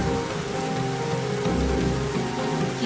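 Heavy rain pours steadily onto a surface, a dense and loud hiss of drops that stays constant with no voices.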